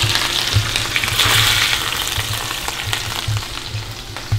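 Thick sailfish steaks searing in a hot pan, giving a close, steady sizzle with bursts of crackling oil throughout.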